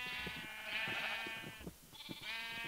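Sheep in Minecraft (SevTech Ages modpack) bleat repeatedly, several overlapping wavering calls from a flock of differently coloured sheep, fairly loud and close with no talk.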